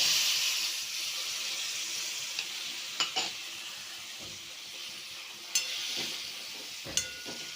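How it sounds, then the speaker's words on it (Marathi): Sliced brinjal fries in oil with a little water in a pan, giving a steady close sizzle. Sharp scrapes from a stirring spoon cut through it every couple of seconds. "आता आपण वांगे टाकून घेऊया बघा आपले वांगे पाच दहा मिनटं वापरून घेतलेले आहेत"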